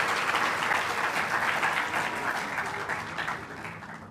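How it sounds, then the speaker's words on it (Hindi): Hall audience claps for a UPSC and IIT-JEE awardee at a Haryana state felicitation ceremony, a broad, even wash of applause that holds steady and then slowly tapers off toward the end. "तालियां बजा दीजिएगा देवयानी के लिए"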